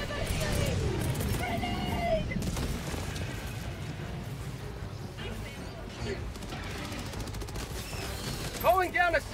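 Sustained automatic gunfire rattles in the video game Helldivers 2, with dense bursts of shots and crashes throughout, mixed with background voices and sharper effects near the end.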